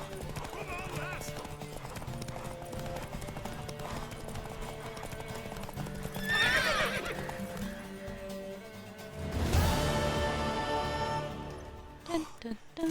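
A horse in The Witcher 3 gallops with rapid clip-clop hoofbeats and gives loud whinnying neighs partway through, while voices talk over the game sounds.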